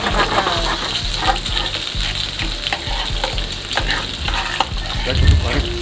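Chopped onions sizzle loudly in butter in a pan, a continuous crackling fry with steady stirring scrapes throughout and no voices over it.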